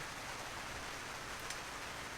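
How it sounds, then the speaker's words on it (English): Rain falling outdoors, a steady even hiss of drops that holds level throughout, with no voices over it. "Shit, it's raining."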